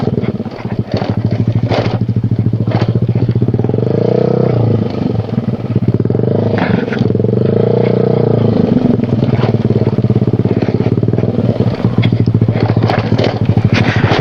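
A motorcycle rides on a rough road on a solo trip to a waterfall, its engine droning loud and steady throughout with rattling and wind buffeting close to the rider.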